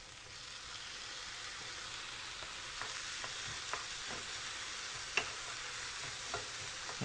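Tomatoes fried and stirred in a pan, a fairly quiet steady sizzle broken by several light clicks and scrapes of the utensil.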